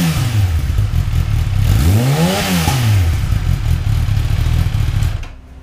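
A 2016 Kawasaki ZX-10R KRT sport motorcycle with stock exhaust idles with a deep rumble, revs up sharply once and falls back, then cuts off at the end; no one speaks.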